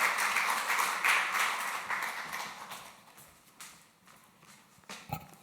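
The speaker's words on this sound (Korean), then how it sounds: "우리 민목사 나오실 때 큰 박수로 할렐루야." A church congregation claps, loud at first and then tapering off into scattered claps.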